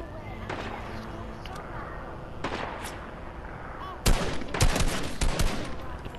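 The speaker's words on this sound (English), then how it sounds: "People trying to shoot me, excuse me." Fortnite gunfire crackles in short bursts, a few scattered shots early and then a rapid cluster of loud, close reports near the end over steady game ambience.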